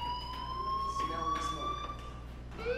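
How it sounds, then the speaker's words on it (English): A steady, piercing school fire alarm tone in Life is Strange, continuous and fairly loud, with voices talking over it. "Hey, do you hear that fire alarm? That means you should be outside."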